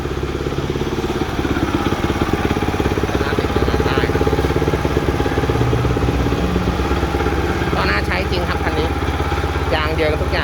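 A Kubota TG 550 utility vehicle's 5.8-horsepower engine runs close by with a steady, throbbing drone that rises as the throttle opens, while someone talks over it.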